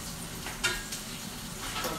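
Leftover potatoes fry in a pan over turned-up heat, giving a steady close sizzle with a few soft stirring scrapes, and no voices.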